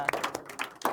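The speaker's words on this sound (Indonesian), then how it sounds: "Tepuk tangan untuk kita semuanya" Applause in a teacher-training classroom at an Indonesian university, several quick sharp hand claps close by, scattered and short.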